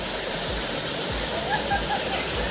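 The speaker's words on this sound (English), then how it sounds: "So here's a happy camper enjoying the waterfall" Waterfall in the El Yunque rain forest of Puerto Rico, a steady broad rush of falling water close by, with faint voices beneath it.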